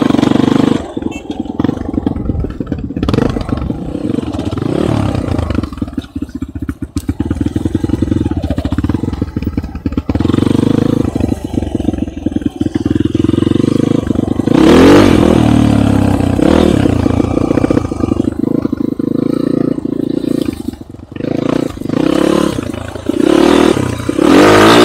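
Enduro motorcycles ride off-road across a field, their engines roaring loudly and continuously with repeated revving and throttle surges throughout.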